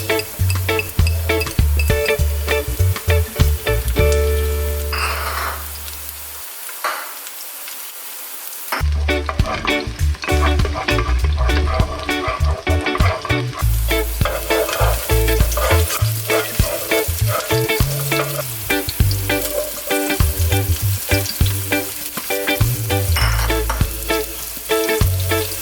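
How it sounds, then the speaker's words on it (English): Garlic and onions sauté in hot oil with a loud, continuous sizzle and frequent stirring scrapes and clinks for Filipino braised pork afritada; the sound cuts out briefly near the middle, then resumes just as strong. "So we're going to start to heat up some oil and start to saute the garlic and"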